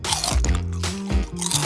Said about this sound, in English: Mmm, so crunchy!